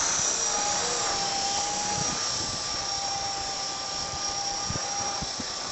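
Axe CP radio-controlled helicopter flying outdoors in wind, a steady high-pitched motor whine and rotor buzz that holds constant throughout, with gusty rumble underneath.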